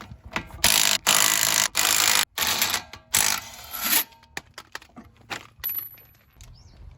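A ratchet works loose the bumper bolts on a 180SX, rapid close clicking bursts in several quick runs with short pauses, then a few lighter metallic taps and knocks as the work settles.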